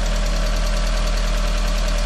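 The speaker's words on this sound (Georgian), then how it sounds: "ძრავი მუშაობს იდეალურად" A restored turbocharged car engine idles steadily with a continuous low rumble and a faint rhythmic knock, loud and close, with no voices.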